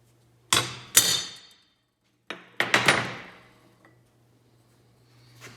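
A hammer drives a punch into metal during a Carroll-Jamieson lathe restoration: two loud ringing strikes, a pause, then three more close blows in quick succession, each with a short metallic decay.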